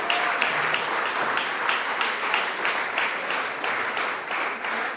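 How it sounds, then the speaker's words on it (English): Sustained applause from a crowd at an awards ceremony for under-15 cricket players, the dense clapping staying steady and loud throughout without any voices. "we need to give them a round of applause for their participation"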